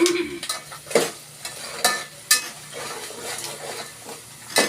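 Tamarind rice (pulihora) is stirred and fried in a pan: a spatula scrapes and clinks against metal in irregular strokes over a steady close sizzle, with no talking.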